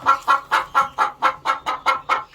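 Hens in a coop with nesting boxes cluck loudly and close by, about ten rhythmic, evenly spaced clucks with no talk over them.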